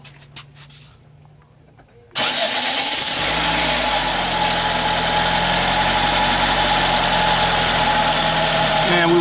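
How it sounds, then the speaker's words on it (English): A 2004 Nissan Sentra engine cranks and catches after two seconds of quiet, then settles into a steady, loud idle with a constant low hum and broadband mechanical noise close by. "I'm going to start the vehicle"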